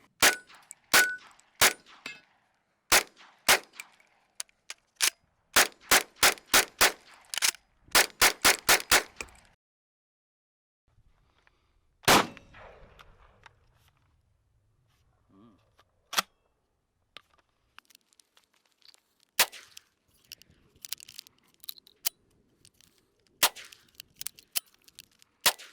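An IWI Tavor TS12 bullpup shotgun firing at an outdoor range, loud sharp blasts, first in quick clusters and then as spaced single shots with quiet gaps, each crack ringing briefly.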